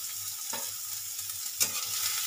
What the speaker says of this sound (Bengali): পেঁয়াজটা সুন্দর লালভাবে ভাজা হয়ে গেছে